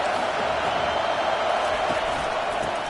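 Steady roar of a stadium crowd in the College Football 25 video game, a dense, continuous wash of cheering noise filling the whole stretch, with a commentator's voice over it.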